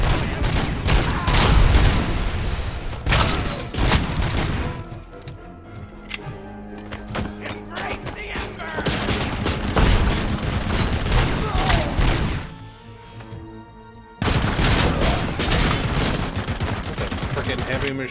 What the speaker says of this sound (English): it's a light machine gun